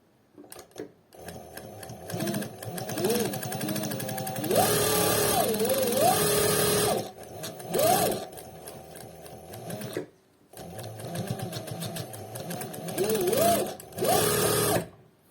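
A Shunfa SF5550 straight-stitch sewing machine runs in close, loud bursts of rapid whirring stitching, stopping and restarting several times with brief pauses between runs.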